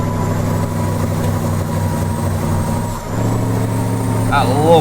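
DAF truck engine in Euro Truck Simulator 2 with ProMods, a loud, steady diesel drone with a deep rumble that keeps going throughout, slightly dipping once, with a brief air hiss near the end.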